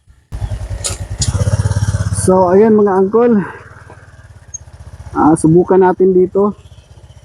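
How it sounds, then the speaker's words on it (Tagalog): A motorcycle engine idles and runs with a steady low putter close by, recorded while starting to ride, heard beneath someone talking who wears a helmet. "Try natin ngayon sumakay ng motor."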